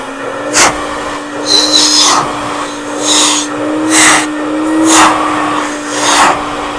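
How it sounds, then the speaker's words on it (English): A professional auto-detailing vacuum cleaner drones steadily, with a constant motor hum and repeated bursts of louder suction noise as the nozzle moves, close by with no talking. "I'm going to turn the vacuum on"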